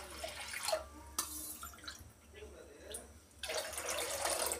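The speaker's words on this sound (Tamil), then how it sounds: "அந்த கிளாஸ்லேயே 5 கிளாஸ் அளவுக்கு தண்ணி எடுத்துக்கிறேன்." Water poured from a glass into a heavy cooking pot while making ulunthan kali, with splashy bursts at the start, a brief dip and a longer pour near the end, fairly quiet and close.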